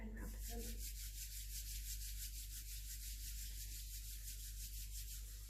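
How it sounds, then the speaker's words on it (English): Hands rub together in a slow, continuous swish during a quiet meditation or yoga class, a soft, close friction sound that holds steady over a low background hum. "Bring your hands together and rub them."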